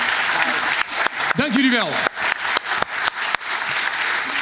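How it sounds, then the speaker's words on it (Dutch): Warm applause from a theatre audience at a live interview show, loud and close, with brief spoken thanks and a host's voice over the clapping. "Geef je onze 3 interviews nog even een warm applaus."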